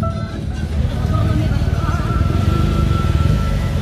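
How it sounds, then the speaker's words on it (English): A scooter taxi ride through the streets of Paris, a steady close motor drone with low rumble throughout, faint voices mixed in. "we're gonna go by this scooter taxi type of ride around Paris"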